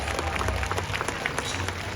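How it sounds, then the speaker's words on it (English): Steady applause from a crowd at a SeaWorld San Diego show, dense clapping that fills the space without a break, loud and close. "how about we give these guys a nice big round of applause"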